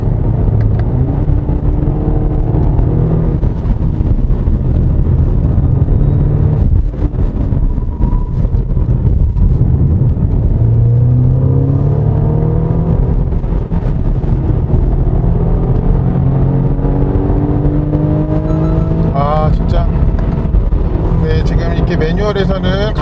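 A 2021 BMW M235i xDrive Gran Coupe drives a winding road with manual gear shifts. Its engine drones loudly inside the cabin, rising and falling with the shifts, and wind rushes past while people talk over it.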